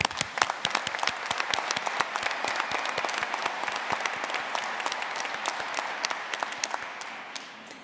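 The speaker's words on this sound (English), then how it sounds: "Let's give them a round of applause." Sustained applause from a commencement audience honoring newly certified undergraduate graduates, dense steady clapping filling the hall throughout with no talk over it.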